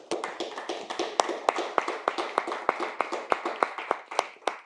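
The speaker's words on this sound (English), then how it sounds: "I think that deserves another round of applause." Applause for a panelist at a local officials and organizers panel: a small group clapping in a steady, sharp rhythm of distinct close claps, fairly loud and alone with no talk.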